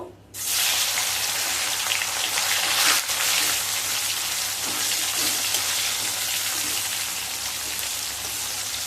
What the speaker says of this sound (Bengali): সেই সময় কেটে নেওয়া একটা মিডিয়াম সাইজের টমেটো দিয়ে দেব